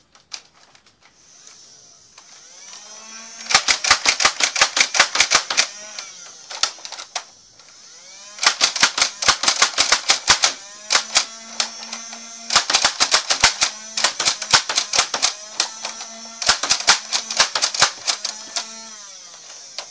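A big, heavy Hailfire gun fires in several rapid bursts of sharp, close clacks, separated by short pauses and softer mechanical clicks.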